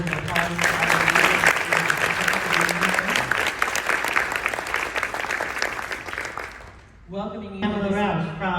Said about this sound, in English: So I'd love to give a round of applause for all of you.